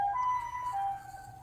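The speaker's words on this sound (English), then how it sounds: "It is an ambulance near my house." An ambulance siren near a house, a steady wailing tone heard from a moderate distance, fairly faint and alone with no talk over it.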